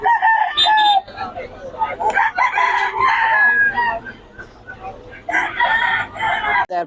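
Several rooster stags crow loudly one after another at a busy Bocaue poultry market, their long calls overlapping with clucking and a steady crowd murmur, with talk heard between the crows.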